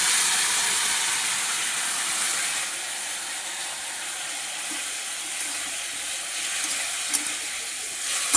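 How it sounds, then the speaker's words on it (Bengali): Cumin powder masala with a little water sizzles in a pan for a hilsa and raw banana curry, a steady broadband hiss that fades slightly midway, with a couple of faint clinks near the end. "দেখুন জলটা দিয়েছি, মশলাটা দিয়েছি যেহেতু, একটু নাড়াচাড়া করে দিলাম।"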